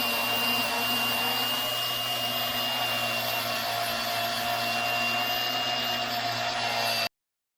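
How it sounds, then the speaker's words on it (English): Grinder with a wire brush working a pitted aluminum GM exhaust manifold, a continuous loud whirring drone with a steady high whine, running alone and cutting off abruptly at the end. "just hit that with the wire brush on the grinder"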